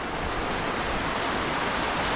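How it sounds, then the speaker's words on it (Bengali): Heavy rain seen from a first-floor rooftop, a dense, even hiss of falling water that stays constant and fairly soft throughout. "আজকে দেখো প্রচুর বৃষ্টি হচ্ছে"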